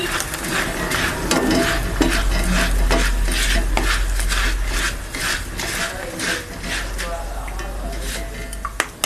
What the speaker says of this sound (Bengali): এখন আমি একটু একটু করে চিড়ে নিয়ে ভেজে নেব।